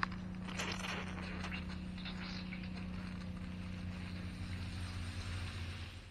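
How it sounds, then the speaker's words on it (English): A small water pump hums steadily for a greenhouse drip irrigation system, a continuous low droning mechanical tone with faint wind-like noise and no speech. "then the pump will start running on the second circuit"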